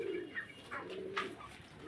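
Fancy pigeons at a farm coo in soft, throaty, rolling calls, several overlapping phrases close by in a quiet space, with no talking.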